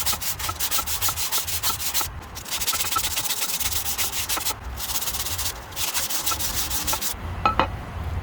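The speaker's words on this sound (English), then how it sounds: "A little bit of sandpaper." Sandpaper rubbed by hand over a metal wheel bearing part from a 1998 Honda Odyssey, a steady close-up scraping in long continuous strokes with brief pauses, no talking.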